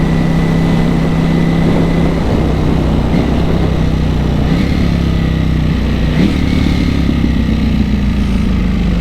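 Ducati Panigale V4S superbike engine blipping up as gears drop on a road ride, a loud continuous near roar with pitch swings and rev bursts under steady wind.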